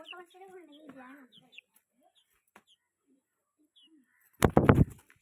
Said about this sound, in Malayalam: ഇതാണ് നമ്മുടെ കണ്ണെഴുതിയ കോഴി.